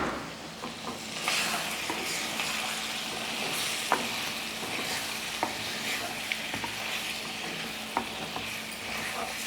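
Goat head curry being stirred in a pan, a soft continuous sizzle with scattered scraping clicks of the spoon against the metal.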